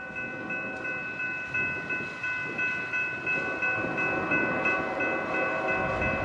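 Eastbound Union Pacific freight train rolling past at Montour, Iowa, on an icy, foggy winter day, a steady close rumble of cars with a sustained horn-like tone over the whole stretch and no one talking.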